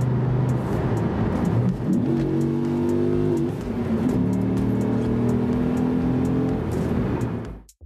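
A Dodge Ram SRT-10 pickup with its V10 Viper engine accelerating hard through gear changes, a loud close engine roar climbing in pitch, dipping at a shift, then climbing again before cutting off.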